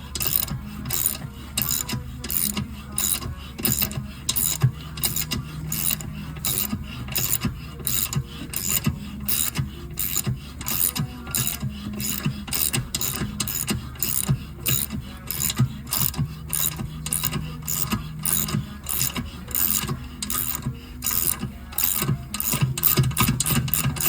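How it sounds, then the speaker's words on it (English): A thread tap turns by hand through a hole in a brake caliper, giving a steady run of rapid metallic clicks and ratcheting ticks for the whole stretch, close and dry, with no talking. "Now we just tap all the way through."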